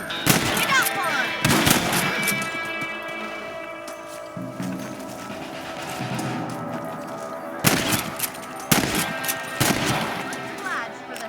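Rifle shots ring out in Red Dead Redemption while hunting rabbits on a ranch, a few loud cracks spaced apart over a steady outdoor game backdrop with faint talk.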